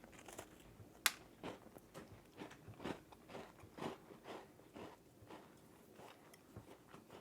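Someone bites and chews a crunchy Aldi Benton chocolate chip cookie: quiet, close crackling crunches repeat irregularly, with one sharper snap as the bite breaks through.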